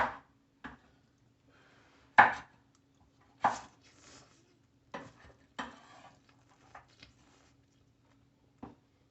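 A knife slicing fish for Jamaican escoveitched fish in a home kitchen, heard as a handful of sharp, separate cuts and taps spaced irregularly, fairly close, with quiet gaps between them and no talk.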